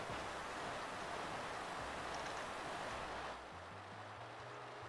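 Rushing water from a Pokémon game as Waterfall is used, a steady broadband wash of surf-like noise that drops in level near the end as a low game tone emerges, quiet overall.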